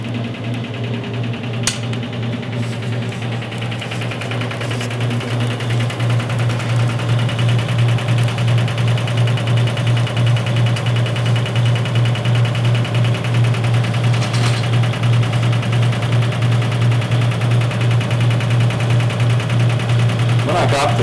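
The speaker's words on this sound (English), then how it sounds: "take a look at the transmission spinning." The old-style transmission of a Maytag A606 washing machine spinning with a steady low motor hum and even mechanical drone. It runs unbroken throughout, close and fairly loud, and a voice talks over it.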